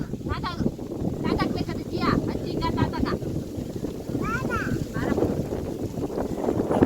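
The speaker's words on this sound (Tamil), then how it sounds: "எவ்வளோ காற்று வீசுது." Strong wind buffets the microphone with a constant low roar in a village near Malur, Karnataka, while several people talk intermittently over it.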